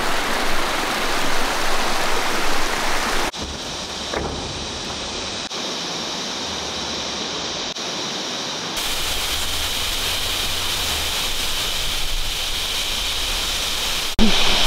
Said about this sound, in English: I don't know if you can hear the water.